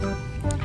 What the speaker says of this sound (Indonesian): ini ada bebek angsa teman-teman